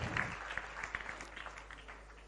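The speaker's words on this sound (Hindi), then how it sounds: "तालियां बजाकर एक बार हर्ष के साथ अनुमोदना" Applause from a gathering at a Jain religious assembly, faint and distant, thinning out after an initial burst.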